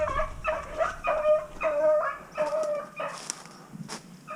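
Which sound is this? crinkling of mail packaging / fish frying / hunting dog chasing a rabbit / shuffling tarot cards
hunting dog chasing a rabbit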